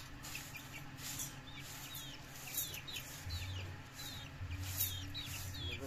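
Chickens clucking softly at close range while being fed rice at a village home, with small birds chirping over a steady outdoor background and no voices.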